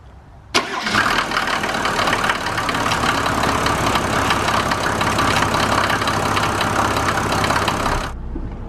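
A 1991 Mercedes 350 SDL diesel cold starts with a sudden crank and catch, then settles into a loud, steady, clattering idle for about seven seconds before the engine noise drops away.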